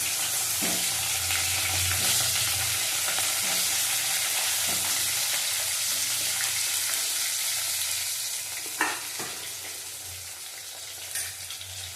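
Eggplant pieces sizzle steadily in a hot pan for about twelve seconds, with occasional sharper clinks and scrapes from stirring near the end.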